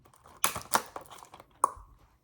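Several sharp crinkly snips and tears as scissors cut plastic wrapping on a box of DVDs and VHS tapes, close up, in short irregular bursts with quiet gaps between.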